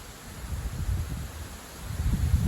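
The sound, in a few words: strong wind gusts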